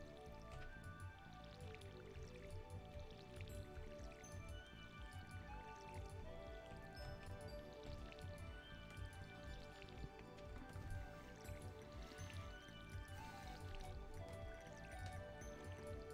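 Repeated watering of crops in the farming video game Farmer Tom, with soft dripping and splashing bursts recurring steadily over a dense bed of game music and ambience, without any talk.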